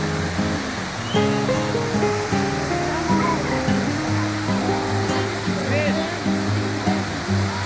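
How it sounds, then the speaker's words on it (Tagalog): Rushing water from Shifen Waterfall in Taiwan makes a steady, loud roar throughout, with crowd voices and people talking over the constant wash. "Wow, ang ganda naman. Chifen Waterfall."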